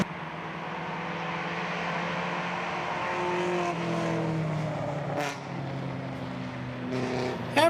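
Race cars in morning warm-ups at turn 3 of Roebling Road during a vintage SVRA event drone past steadily, engines rising and falling as several cars sweep by, one nearer pass swelling briefly before the next.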